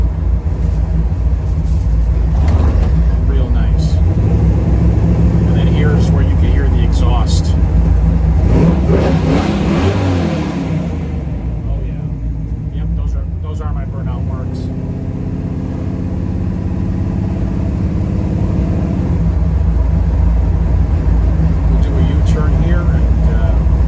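A 1967 Camaro drives through a tunnel and over railroad track bumps, its engine rumbling steadily with a brief shift in tone as it passes, while someone talks throughout.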